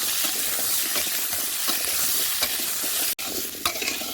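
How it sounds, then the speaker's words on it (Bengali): Chopped vegetables and soya chunks frying in hot oil in a wok, a dense, steady sizzle with stirring scrapes, briefly interrupted near the end before resuming. "কড়াইয়ের তেল গরম দিয়ে দেবো কেটে ধুয়ে রাখা সবজি সহ সয়াবিন দিয়ে ভালো করে ভেজে নেব।"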